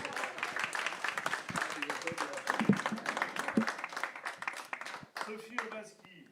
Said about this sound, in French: Vous pouvez m'applaudir, j'adore ça.